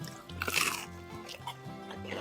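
Bite of crunchy bread toasted over a fire: a loud close crunch followed by softer chewing and crackling, with faint background hum.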